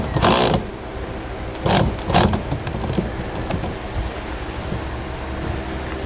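Adjustment of the pulley on a Roadmaster InvisiBrake flat tow brake system inside a vehicle: a few loud ratcheting and mechanical bursts close by, then steady quieter clicking and metallic handling.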